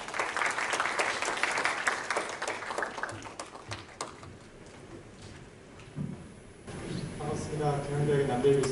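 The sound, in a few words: audience applause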